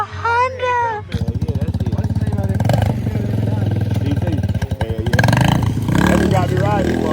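A Honda dirt bike engine runs in a loud, rapid, pulsing putter close to the microphone, rising and wavering as it rides, after a short burst of people talking at the start.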